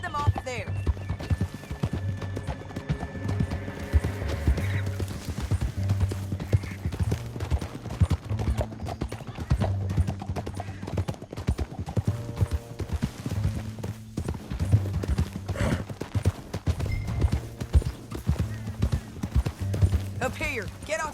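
Horse hooves galloping in Red Dead Redemption 2, a steady fast clip-clop running through the whole stretch beneath a low musical score, with occasional snorts and voices talking over it.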